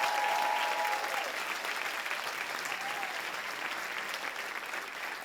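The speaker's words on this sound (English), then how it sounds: "Merci de l'applaudir" Festival audience at a John Travolta masterclass in Cannes applauds director Randall Kleiser. The thick, sustained clapping is loudest at the start and eases slightly as it continues, with faint voices underneath.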